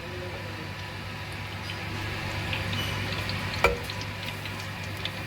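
Ghee heats in a clay pot, giving a faint, steady low sizzle with a few soft ticks and one sharper click near the end.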